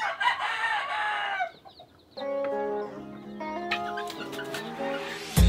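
Game fowl bantam rooster crows loudly and close, with hens clucking around it in a farmyard; several sustained harmonic crow calls follow a burst of cackling.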